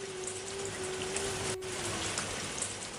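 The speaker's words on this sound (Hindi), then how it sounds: "बारिश बरस रही है।" Steady rain falling, a dense even hiss of drops spread across the whole stretch with no pauses, moderately soft, with a faint tonal hum running underneath.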